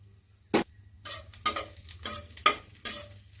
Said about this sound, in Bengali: তেলটা অল্প গরম হয়ে গেছে আমি পাঁচ ফোড়নটা দিয়ে দিই